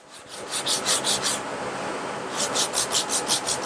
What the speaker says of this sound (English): And of course, more sanding.